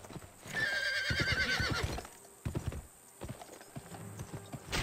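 Horse hooves clip-clop in a quick rhythm while a horse gives a loud, close neigh near the start in the Xbox 360 Western game Gun, with scattered hoof thuds continuing afterward.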